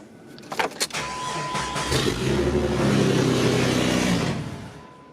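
A salvage Jeep Cherokee engine cranks with a few clicks, catches and runs at a steady idle for several seconds, close and fairly loud, then cuts off.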